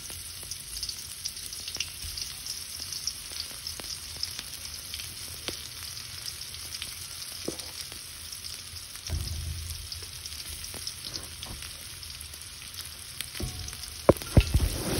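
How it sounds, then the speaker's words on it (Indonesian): Ground spice paste sautéing in hot oil for meatball soup broth, a soft even crackling sizzle with scattered pops and a few louder clatters near the end, no speech. "panaskan minyak dan kita tumis bumbu yang udah kita haluskan tadi"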